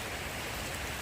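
Rain falls steadily outdoors, a dense, even hiss of drops with no distinct rhythm and no voices, captured on a Samsung Galaxy S21 FE phone.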